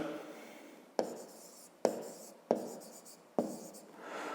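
A pen writing on paper during a Ukrainian fifth-grade maths exercise, heard as soft scratchy strokes broken by four sharp taps at regular intervals, close and quiet, with no voices.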